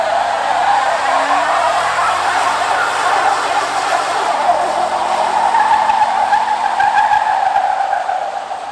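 Continuous high tire squeal and skidding roar from a car doing a burnout after a car show, loud and close, sustained without a break.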